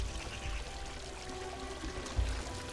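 Water flowing in the video game Unravel, a soft, continuous pouring rush with a low rumbling undertone, fairly quiet and steady with a brief swell near the end, no voices.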